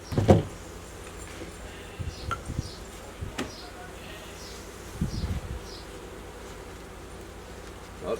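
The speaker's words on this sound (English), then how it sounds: "Lots of bees anyway." Honey bees hum in a continuous low drone around an open hive on an afternoon, with a few louder passes of bees flying close and some handling knocks.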